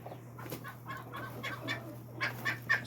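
A flock of white silkie chickens clucks softly in scattered, overlapping calls from several birds, fairly quiet and close, with a steady low hum underneath.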